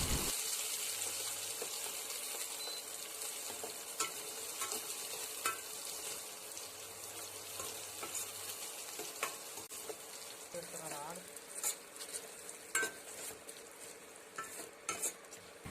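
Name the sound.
small onions frying and being stirred in a pan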